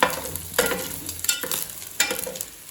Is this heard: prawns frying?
yes